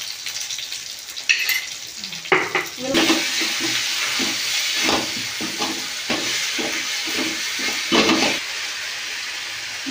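Spices and tomato fry in hot oil in a pan for a Bengali chhena curry, with steady broadband sizzling throughout and a scatter of sharp clinks and scraping stirs layered over it.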